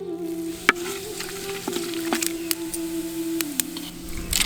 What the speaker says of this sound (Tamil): சட்டி நல்லா சூடானதும் கொஞ்சம் எண்ணெயை ஊற்றி பெரும் சீரகத்தை சேர்த்துக்கலாம்.